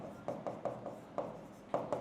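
Pen strokes scratch on paper in short, close, quiet bursts while a math problem is worked out, several quick marks in an uneven rhythm.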